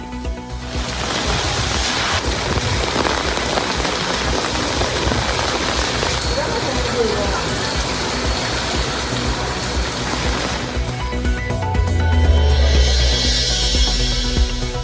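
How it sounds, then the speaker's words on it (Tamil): Widespread rain in the Thanjavur, Tiruvarur and Ranipet districts of Tamil Nadu, a continuous dense hiss of falling rain heard up close, with a deeper rumble swelling toward the end and no talking. "தஞ்சை திருவாரூர் ராணிப்பேட்டை உள்ளிட்ட மாவட்டங்களிலும் பரவலாக மழை"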